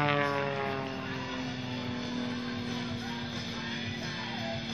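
Propeller aerobatic airplane performing stunts at an air show at Fukushima Sky Park, its engine drone loud and steady throughout with a rising and falling pitch as it maneuvers overhead.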